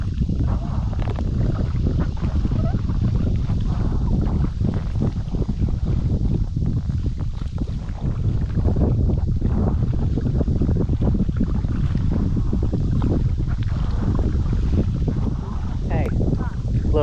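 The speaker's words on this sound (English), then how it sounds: "the wind's blowing this way" Wind buffeting the microphone while kayaking, a loud, constant low rumble through the whole stretch, with voices talking faintly underneath.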